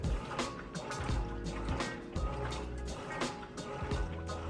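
A Whirlpool Roper top-load washer agitating clothes in water, rhythmic swishing strokes repeating about once a second, each with a low churning thump, steady and close with no voices.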